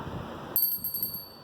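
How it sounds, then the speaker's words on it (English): A small handheld bell rings once with a bright, clear metallic tone that starts suddenly and lingers as it fades, close and alone over faint background noise. "So in these 4 objects we can only hear the noise of a bell"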